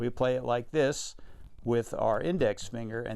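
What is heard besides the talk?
No everyday noises stand out.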